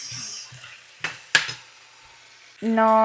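A spoon stirs a spiced onion-potato curry in a pan, making soft scraping and two sharp metallic clinks against the pan's side. A brief tonal sound follows at the end.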